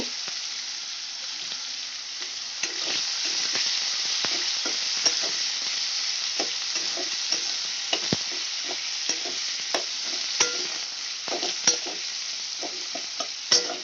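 Three medium onions, sliced thin and salted, fry in a pan with a steady crackling sizzle and frequent clicks of a spatula stirring through them, close and continuous with no talking.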